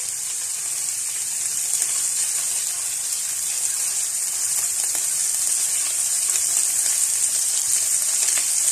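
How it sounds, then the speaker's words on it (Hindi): Mustard seeds and white cumin frying in hot oil give a steady, bright, close sizzle that stays even and unbroken throughout, with faint small pops. "राई दाना ऐड कर दूंगी। सफ़ेद ज़ीरा भी डाल देंगे और इनको पका लेंगे थोड़ा सा।"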